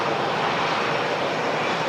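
EasyJet airliner engine roaring steadily at Manchester Airport, a loud, continuous broadband jet rumble with no talk over it.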